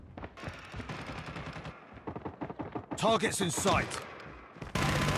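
Kilo 141 light machine gun fire in the mobile shooter Call of Duty Mobile, with bursts of rapid shots mixed with game voice callouts, other battle sounds and a loud burst near the end.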